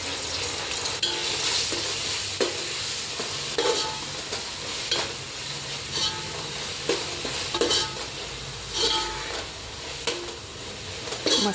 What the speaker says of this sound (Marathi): आता हे एकजीव करून आपण छान परतून घेऊया